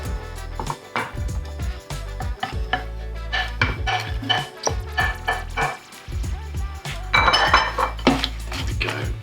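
Chopped vegetables tipped into a pan of tomato sauce, with a busy run of clanks and scrapes of a spoon and pan, wet plops and a short rattling pour near the end.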